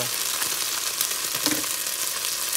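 Beef browns in a hot pan with a loud, continuous sizzle and crackle, steady and close for the whole stretch, with no talking.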